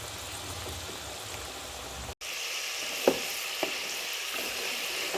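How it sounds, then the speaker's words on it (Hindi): Potato fries deep-frying in hot oil for a spicy KFC-style recipe, a steady dense sizzle throughout with a brief dropout and a couple of faint clinks or stirs, no talking. "फ्राइज़ को हमें 7 मिनट तक फ्राई करना था। ये अच्छे से फ्राई हो गई हैं।"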